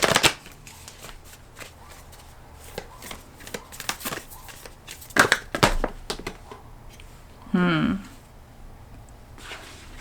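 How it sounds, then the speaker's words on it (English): Tarot cards being shuffled close by, a run of crisp papery riffles and soft clacks in irregular bursts, with a brief murmuring voice near the end. "I'm gonna put them back and shuffle again"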